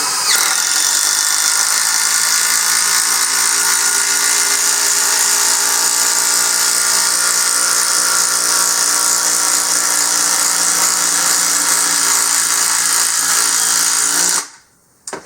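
A DeWalt 20-volt cordless drill runs at full speed, a loud, steady high-pitched whine from the motor, close up, holding unbroken for about fourteen seconds before cutting off abruptly, no voices.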